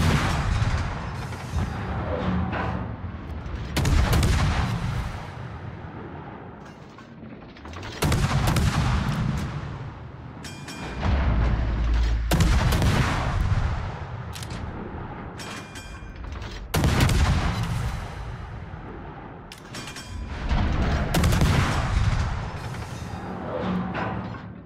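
Naval guns fire at an enemy warship in a video game battle, with heavy booming salvos arriving in loud clustered bursts and rumbling decays between them, repeated over and over.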